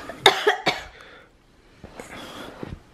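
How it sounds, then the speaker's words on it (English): A person coughs up close, two or three sharp harsh bursts in quick succession, followed by quieter throat-clearing sounds. "you just coughed all over me"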